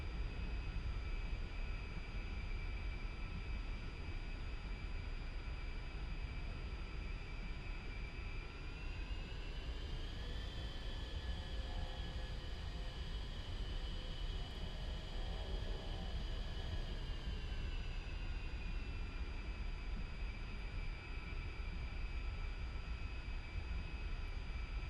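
An A-10C jet in the DCS flight simulator taxiing on the ground, a steady loud turbine whine and rumble with a slight rise and fall in pitch midway, no voices.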